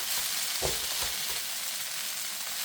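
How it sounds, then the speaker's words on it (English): Chicken, broccoli and rice sizzle steadily in a frying pan, with a few soft low scrapes of stirring near the start over a constant hiss. "Give it another stir."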